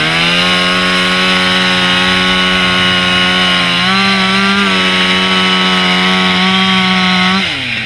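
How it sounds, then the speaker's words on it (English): A bullet saw cuts through a tarred plywood roof during a fire crew's roof ventilation exercise. It gives a loud, close, sustained engine whine that dips and rises in pitch as the blade bites, with no talk. "they use a bullet saw to cut through the tarred plywood roof"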